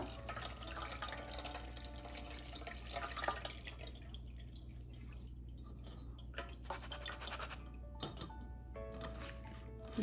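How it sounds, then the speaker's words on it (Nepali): Soft wet swishing and dripping as something is rinsed in water, close and quiet, with no talking. "अब यो चिउरालाई चाहिँ यसरी पखाल्नु पर्छ"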